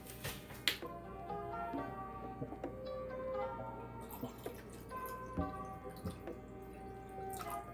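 Water being measured and poured into a measuring cup, soft trickles and drips at low level with light clinks of the cup, no talking.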